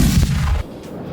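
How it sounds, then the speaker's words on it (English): A cannon on the Las Vegas Strip fires a person, a loud heavy boom with a deep low rumble that cuts off sharply and leaves a quieter outdoor hiss. "we're going to fire Garl out of a cannon"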